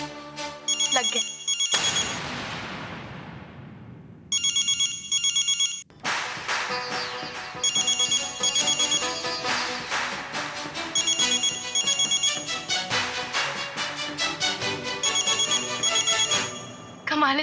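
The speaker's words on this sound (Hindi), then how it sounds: "मैं यहाँ पे फोन लगा रही हूँ और आपका फोन भी बज रहा है।" A phone ringtone plays in repeated electronic bursts, loud and close, with short gaps between rings and a sharp whooshing sweep near the start, set in a Hindi TV drama scene.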